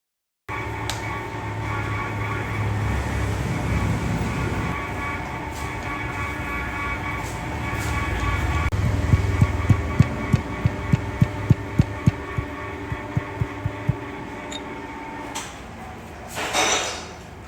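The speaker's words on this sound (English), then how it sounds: "We use the swivel head milling machine for the operation." A swivel head milling machine cutting teeth on a big gear wheel with a high-speed steel tool. It gives a steady mechanical hum and drone, then a run of regular rhythmic knocks and a brief higher whine near the end.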